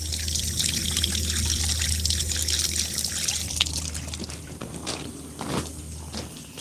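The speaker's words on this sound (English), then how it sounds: "Put it under the hose, the tap here." Tap water runs in a steady trickle over a smart glove being cleaned, a continuous close splash with some clatter of handling toward the end.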